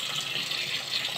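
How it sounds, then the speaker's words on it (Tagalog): Water pours steadily into a small backyard swimming pool being filled, making a continuous hissing gush that stays fairly quiet and even throughout. "ongoing yung pagkarga na natin ng tubig"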